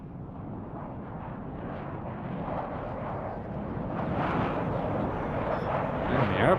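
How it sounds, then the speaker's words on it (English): An airplane roars through a WARNO real-time strategy battle, a broad rumbling engine sound that swells gradually and grows louder toward the end, with no talk. "And the airplane's in the air."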